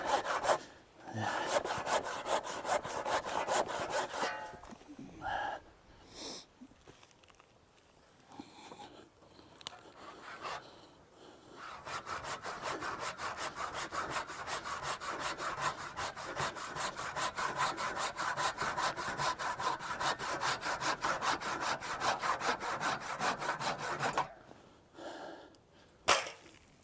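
A hand saw cuts wood for an allotment fence in long, rhythmic strokes with a few short pauses, fairly quiet and close, with no voices.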